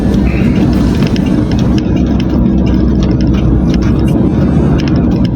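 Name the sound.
car engine running while shifting gears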